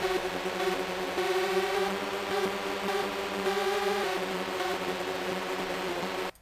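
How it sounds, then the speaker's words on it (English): A FabFilter Twin 2 synth preset doubles an 8-string guitar line, with a dense, sustained, buzzy tone of steady rhythmic notes played continuously and loudly, then stopping abruptly at the end. "we are programming a little synth to play our guitar line with us, and that's going to sound like this"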